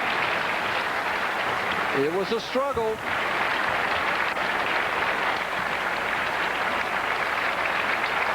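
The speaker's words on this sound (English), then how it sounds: "The handshake, standing ovation from our crowd here." Crowd giving a standing ovation at a bowling championship, the 1995 ABC Masters, sustained dense applause throughout, with a brief spoken remark over it.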